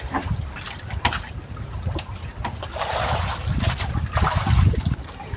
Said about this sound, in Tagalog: Dito naman tayo sa laot maghahanap buhay.